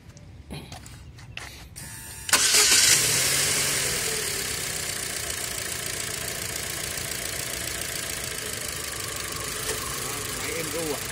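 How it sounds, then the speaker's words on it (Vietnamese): Engine of a Chevrolet Cruze car turning over and catching, a loud burst that settles into a steady idle running on to the end, with a few clicks and bits of talk before it starts. "Rồi em có thể đề động cơ lên sẵn đây,"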